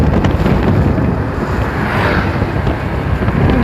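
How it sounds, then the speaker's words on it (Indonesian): Strong seasonal wind in a village near Bukittinggi buffets the microphone with a loud, steady roar and rumbling gusts, with no voices. "Di Bukit Tinggi pun lagi musim angin teman-teman."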